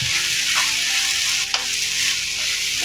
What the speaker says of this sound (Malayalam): മുരിങ്ങയ്ക്ക നല്ലവണ്ണം നമ്മളെ കടു വറുത്ത എണ്ണയ്ക്കകത്തിട്ടൊന്ന് വഴറ്റണം കേട്ടോ